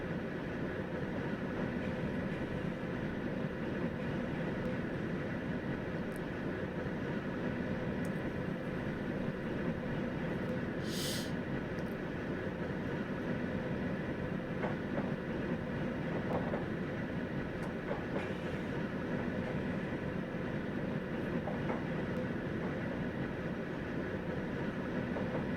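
Class 91 electric train running on the East Coast Main Line in Train Simulator 2019, departing Darlington for York: a steady, even rumble and drone with faint rail clicks, continuous and fairly close throughout.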